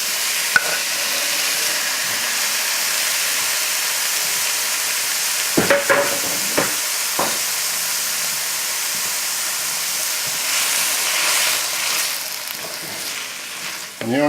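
Tomatoes go into a pot of onions sweating for a crab and vegetable chowder, bringing a steady close sizzle and frying hiss with a few clatters of stirring partway through, no talk.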